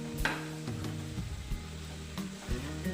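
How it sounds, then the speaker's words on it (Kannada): Salt being stirred into soft cooked tomato in a pan for a Karnataka-style okra stir-fry, heard as a few soft scraping strokes of a spoon over a low background hum. "ಇವಾಗ ಇದಕ್ಕೆ ನಾನು ರುಚಿಗೆ ತಕ್ಕಷ್ಟು ಉಪ್ಪನ್ನು ಸೇರಿಸಿ ಮಿಕ್ಸ್ ಮಾಡ್ಕೊತಾ ಇದ್ದೀನಿ"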